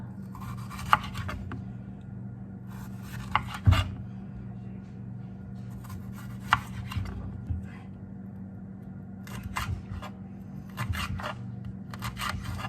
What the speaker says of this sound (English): I'm going to cut this one into slices.